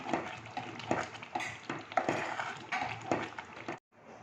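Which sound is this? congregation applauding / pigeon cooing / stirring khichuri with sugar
stirring khichuri with sugar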